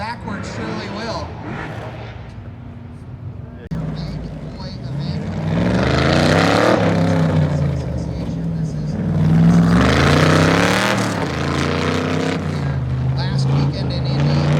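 Engine revving and tires screeching as a car spins around sideways at an NMRA Ford drag racing event in Bowling Green, Kentucky, loud and sustained with rising engine pitch, while a commentator talks over it.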